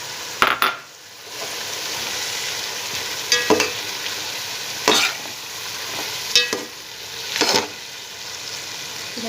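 Vegetable pulao masala with yogurt sautés in a pan under a steady soft sizzle, while a spoon scrapes and clinks against the pan in sharp, loud strokes every second or two.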